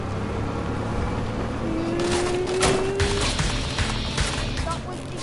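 Gunfire in a squad-based video game: bursts of sharp shots scattered through a busy, noisy mix, with voices talking over the action.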